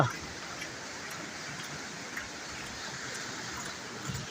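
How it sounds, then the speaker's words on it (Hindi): Steady, broad rushing of falling water at Kakochang Waterfall near Bokakhat, Assam, fills the scene, a continuous hiss and roar with no breaks. "झर झर झर झर झर पानी गिरते हैं"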